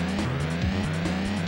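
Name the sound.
altered car driving in Top Gear 3000 SNES video game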